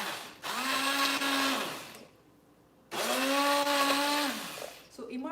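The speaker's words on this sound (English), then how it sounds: "And then gently immerse the hand blender and puree." A handheld immersion blender purees Thanksgiving soup in a pot, running in two loud, steady whirring bursts with a short pause between them, then cutting off.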